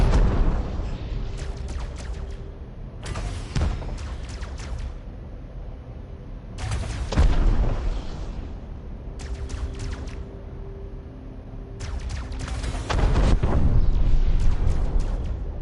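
Explosions in the space game Elite: Dangerous, a series of sharp bursts and booming blasts at intervals over a low droning hum, loud and close.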